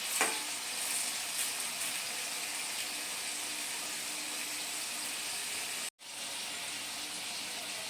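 Potatoes fry in a pan with a steady, close hiss of oil that runs unbroken, cut by one brief moment of silence near the end.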